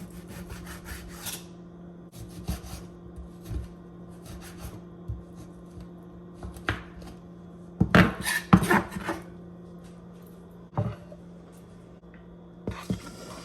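A knife slicing through firm, partly frozen beef steak on a cutting board, heard as repeated rasping saw-like strokes and sharp knocks on the board, close and clear, in irregular bursts, with no talking.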